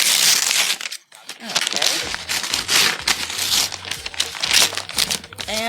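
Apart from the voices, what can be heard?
cutting open and unwrapping an eBay parcel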